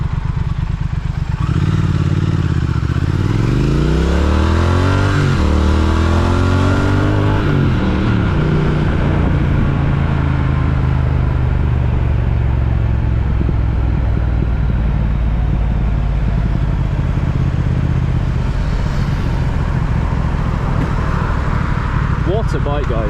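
A Triumph Speed Twin motorcycle in sport mode pulls away from traffic lights and accelerates hard, its loud engine note climbing steadily through the gears, with a steady wind roar throughout.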